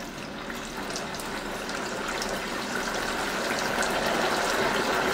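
Milk poured into a pan of hot oil sets off a continuous, building hiss and sizzle that grows steadily louder over several seconds, with no voices.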